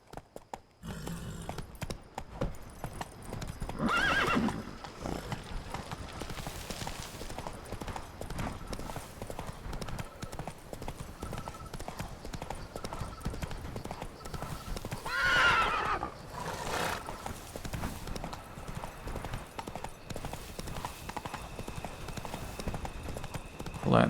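Geralt's horse Roach in The Witcher 3 trots with steady clip-clop hooves and lets out loud neighs and whinnies, with a voice talking over the game sounds.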